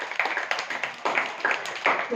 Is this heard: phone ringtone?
no